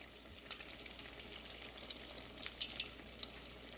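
Vadas sizzling in hot oil, a steady crackling fry with scattered sharp pops and bubbling, close and fairly quiet, with no voices.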